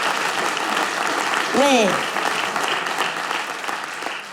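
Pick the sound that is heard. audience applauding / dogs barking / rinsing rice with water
audience applauding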